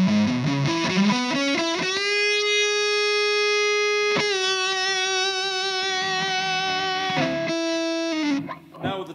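A distorted Hagstrom Swede Gold Top electric guitar rings out in sustained, overdriven chords, a brief strummed run leading into long held notes that change twice before fading.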